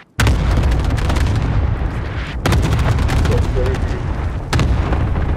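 Loud gunfire and blasts in Call of Duty: Modern Warfare battle royale, close sharp shots in rapid bursts over a booming background, with a couple of abrupt cuts between volleys.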